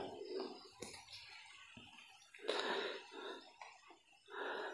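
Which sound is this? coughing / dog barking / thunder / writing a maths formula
coughing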